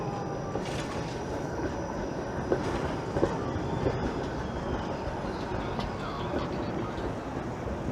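A Carlton streetcar runs past on a busy Toronto retail street near Howard Park Avenue and Roncesvalles, giving a steady rolling rumble with faint wheel clatter amid continuous street noise and a few brief knocks.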